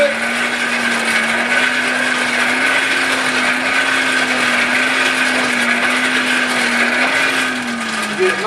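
Forge blower heating a railroad spike, a loud steady whirring hum with a constant low tone and broad airy roar, unbroken throughout.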